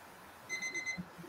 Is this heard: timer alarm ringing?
yes